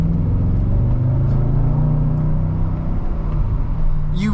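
A 2007 Mercedes-Benz SL55 AMG with a resonator delete accelerates, its engine producing a steady low rumble with a smooth rising tone and no harsh drone, heard from close by.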